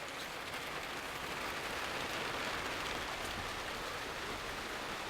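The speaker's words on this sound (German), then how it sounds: "da es jetzt regnet" Steady rain falls on a small allotment garden, a dense, even hiss of drops pattering continuously on surfaces with no pauses, fairly soft and close.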